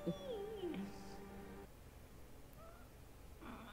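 A cat meows with a rising, bending cry near the start, followed by quieter room noise and a faint second sound at the end.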